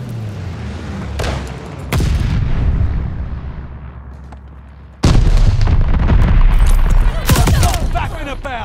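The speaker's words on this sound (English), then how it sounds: "Allies call the bombing run." A bombing run in the video game Call of Duty Vanguard, on the Eagle's Nest deathmatch map, brings several loud, close explosions with heavy rumbling booms and sharp blasts, the biggest one near the middle, as a voice talks between them.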